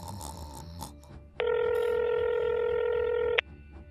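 A phone in the Roblox Bloxburg video game gives off one steady electronic dial tone lasting about two seconds, clear and isolated against faint background noise.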